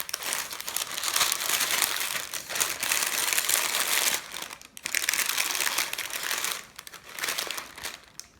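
Foil wrapping being folded and tucked around chicken wings and drummies before slow cooking in the oven, loud close crinkling in long continuous stretches with brief pauses.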